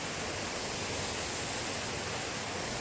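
Waterfall at Raban Dara, a continuous broad rushing roar of falling water, steady and even with no other sounds over it.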